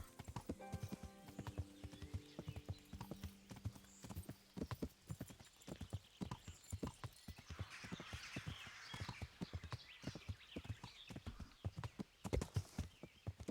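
Steady clip-clop of horse hooves trotting close by in the video game Kingdom Come: Deliverance, with a brief whinny early on and faint ambient sounds behind.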